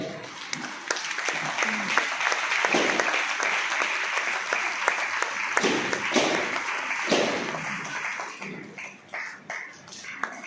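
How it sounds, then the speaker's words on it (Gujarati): A church congregation at a pastor's birthday celebration claps loudly with raised hands, a sustained, dense wall of applause that thins into scattered claps near the end, with faint voices underneath. "આપણે દરેક વ્યક્તિ હાથોને ઉઠાવીએ અને જોરદાર તાળીઓ પાડીએ"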